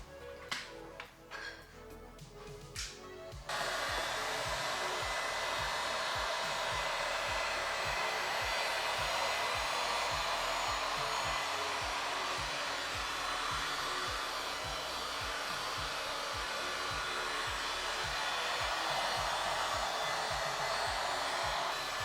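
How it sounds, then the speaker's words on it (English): A heat gun blows hot air onto a plastic snorkel during a 2nd-gen Toyota Sequoia snorkel install, a steady loud rushing hiss that starts after a few seconds of faint handling clicks and runs alone to the end. "we're getting a heat gun right now, and we're going to heat gun that in"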